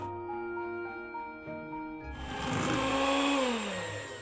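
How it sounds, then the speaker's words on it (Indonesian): An electric hand mixer whirs steadily as it beats flour and baking powder into a cassava putu ayu batter, a continuous motor drone that shifts pitch partway through as the load changes. "Kalau sudah, masukkan terigu dan baking powder. Setelah itu, mixer sampai merata."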